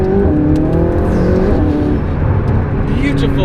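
A McLaren 675LT supercar's engine roars loudly and steadily at close range, revving with a dense exhaust note and scattered pops and bangs from the exhaust.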